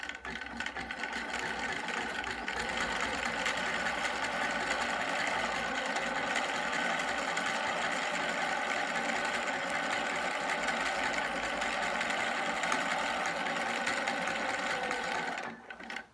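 A Husqvarna computerized sewing machine stitches a decorative pattern, its steady rapid needle whir running loud and unbroken for about fifteen seconds before stopping.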